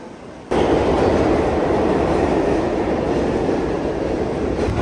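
Inside a moving New York subway train, a loud, steady rumble and roar of the carriage runs continuously, starting abruptly after a quieter moment, with no talk.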